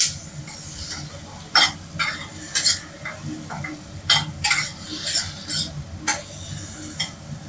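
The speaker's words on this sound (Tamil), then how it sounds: "இப்போ எல்லாம் ஒன்றா வதக்கிக்குவோம்." Onions, ginger and spices sautéing together in a pan for chicken thokku, with a steady low sizzle broken by repeated sharp scrapes and clinks of a spoon stirring against the metal, close and fairly loud, no voices.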